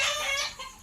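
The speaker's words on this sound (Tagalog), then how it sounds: "May manok po dun sa kabila." A chicken clucks briefly and faintly, short harmonic calls with some background noise, no voices.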